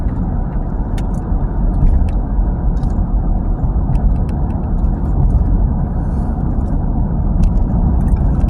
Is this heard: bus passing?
yes